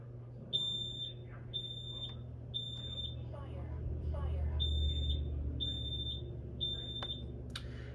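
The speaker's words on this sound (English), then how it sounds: "So let's listen to the smoke alarm." A recorded smoke alarm beeping in a steady pattern of long, shrill high-pitched tones, about seven evenly spaced, over a low hum with faint voices in the background.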